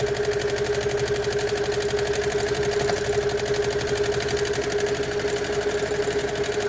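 A sewing machine stitching a cloth face mask hums loudly and steadily with a fast, even needle rhythm close by, running without pause and with no talking.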